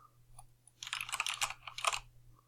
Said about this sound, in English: I can start typing some yellow text